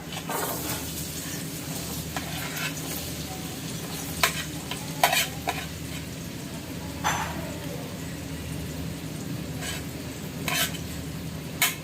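Chopped onions sizzle and fry in three to four spoons of ghee in a pan, stirred with a utensil that scrapes and clinks now and then, steady and close.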